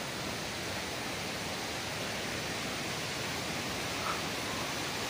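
Dodhani waterfall, white water rushing in a steady, unbroken roar that fills the whole stretch at an even level, with no voices over it.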